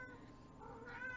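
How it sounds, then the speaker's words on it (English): A cat lets out a drawn-out, rising meow, faint and somewhat distant, over a soft steady background hum. "you can hear my cat hollering in the background"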